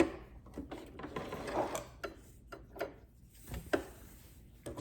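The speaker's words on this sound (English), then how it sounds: "We're going to reverse a few and then sew off the edge." A sewing machine runs in short bursts while stitching the edge of a fabric face mask, with a brief reverse stitch, a steady mechanical whir and clatter close by, interrupted by small pauses and handling noises.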